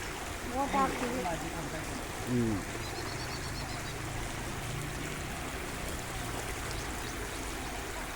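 Steady rushing floodwater overflows a large lake's spillway in Kudligi, Karnataka, flowing throughout, with a voice speaking briefly near the start over the continuous wash.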